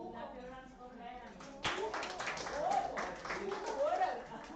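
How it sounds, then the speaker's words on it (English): Hands clapping for participants at a school workshop, a burst of claps starting partway through and continuing under ongoing talk and voices in a room. "Clap your hands for them."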